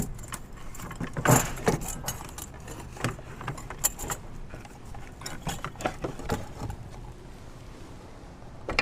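Metallic clinks and rattling scrapes of a 6.0L Powerstroke turbocharger being twisted and worked up out of its engine-bay opening, irregular close knocks with one louder clank early on, no talk.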